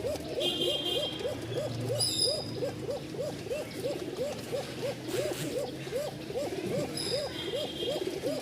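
A pigeon with a thin, fine-pitched call cooing in a steady rhythmic series of repeated hooting notes, close and alone, with faint chirps behind.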